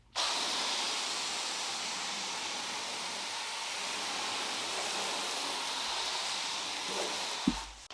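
A garden hose foam sprayer loaded with Turtle Wax Max Power car soap sprays in a steady, broad hiss for several seconds, ending with a brief knock.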